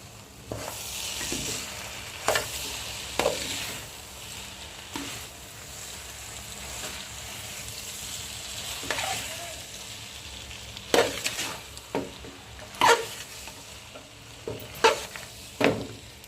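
Schezwan noodles stir-fried on high gas in a large pot, a steady sizzle under repeated loud scrapes and clanks of a spatula against the metal, close and ongoing, with no one talking.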